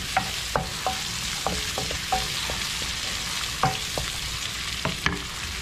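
Garlic and whole chilies sizzle steadily in a pan, close and alone, broken by repeated scraping clinks of a utensil stirring against the metal.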